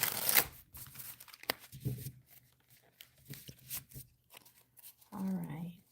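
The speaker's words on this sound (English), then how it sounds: "One more shuffle." Soft riffling and flicking of cards in quick irregular bursts, with brief rustles and a voice speaking near the end.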